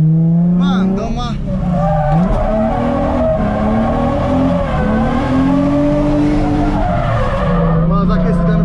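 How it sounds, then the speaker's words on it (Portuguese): Nissan 350Z tires squealing and skidding on a warm-up lap, a loud, continuous wavering screech over a revving engine, close and intense throughout the run. "Só tô dando uma aquecida no pneu, dando uma volta aí de aquecimento."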